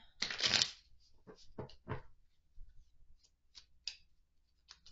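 A deck of healing oracle cards is shuffled up close, a dense riffling burst followed by several short flicks and taps of individual cards, quiet and without talking.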